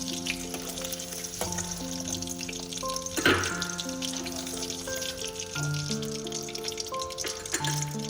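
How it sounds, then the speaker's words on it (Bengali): Duck eggs fry in oil in a pan over medium-low heat, with a continuous soft sizzle and crackle plus occasional clinks, and no one speaking. "এটা মিডিয়াম টু লো আঁচে রেখে ভেজে নেবে।"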